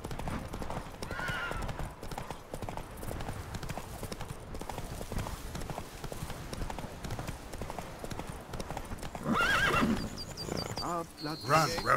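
Roach, Geralt's horse in The Witcher 3: Blood and Wine, gallops with steady rhythmic hoofbeats and snorts and neighs, while voices talk over the clip-clop near the end.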